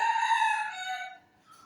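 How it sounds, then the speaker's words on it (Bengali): A rooster crows once outside, a single close, clear drawn-out call that tails off, with no other sounds around it. "সারাক্ষণ শুধু মোরগটা ডাকে বাইরে এগুলো রেখেছি আমি"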